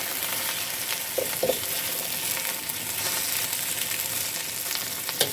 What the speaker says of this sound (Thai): ก็ค่อยๆ ตะล่อมเลยค่ะค่อยๆ คนนะคะทุกคน